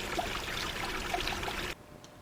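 Steady broadband rush of flowing river water, close and continuous for most of the moment, then cutting off abruptly to near quiet.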